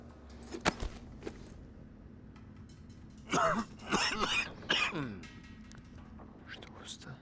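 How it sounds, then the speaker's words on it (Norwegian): A character in The Walking Dead: Saints and Sinners video game gives several rough, throaty coughs and throat-clearing bursts in a cluster, close and fairly loud, with quieter game sounds around them. "Slutt å hoste."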